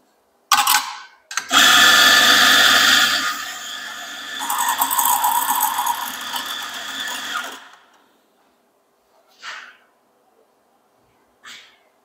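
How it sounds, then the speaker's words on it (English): A Mazzer S series electronic coffee grinder whirs loudly for about six seconds, a high mechanical grinding burst that trails off, followed by two brief faint clicks. "What happens when you press this button is it starts grinding, and as it grinds, it pushes coffee out into this funnel"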